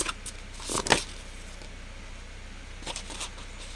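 A deck of tarot cards gets shuffled in two short riffling bursts, close and soft against a quiet room.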